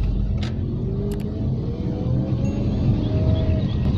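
A car climbs a winding uphill mountain road, its engine a steady low rumble heard from inside the cabin throughout, with faint tyre and road noise and no talk.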